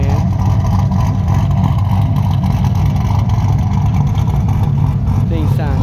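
A loud, deep-throated engine on a car at a summer car-club show rumbles and revs close by, with people talking over it the whole time.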